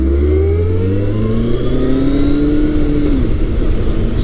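A Kawasaki Concours 1400 sport-touring motorcycle pulling hard out of a corner, its engine note rising steadily in pitch under wind rush, loud and close from the rider's position, then easing off near the end.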